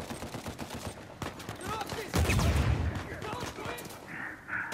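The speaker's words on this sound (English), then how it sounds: "I got like a one-hit kill shotgun" Shotgun fire in the survival mode of the video game Uncharted 4 mixes with other gunfire, giving scattered sharp shots and a heavier blast burst midway, with players talking over the action.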